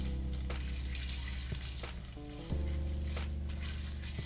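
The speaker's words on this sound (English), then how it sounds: "So we're gonna add the popcorn and the sugar in there and give it a stir." Popcorn and sugar being stirred in a pot to make kettle corn, a soft steady sizzle with a few scraping strokes and a light clink, fairly quiet and near.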